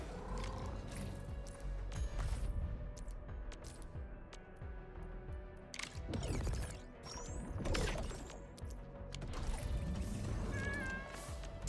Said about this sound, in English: I don't see a kitty, but I hear a kitty.